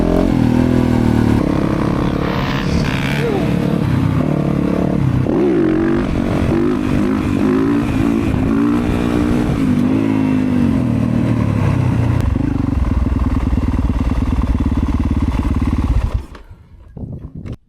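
Dirt bike riding on a private dirt track, engine loud and close with revving and shifting pitch and some clatter, cutting off near the end.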